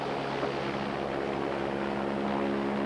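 A rescue helicopter hovers during a mountain rescue on the north face of the Eiger, its rotors and engine making a steady, even drone that fills the scene with no voices.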